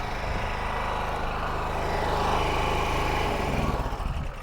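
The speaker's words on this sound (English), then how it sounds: "I'll just turn the generator off for a minute" A portable generator runs beside a small boat under window repairs. It gives a loud, steady engine drone with a constant low rumble that swells slightly midway and stays unbroken throughout.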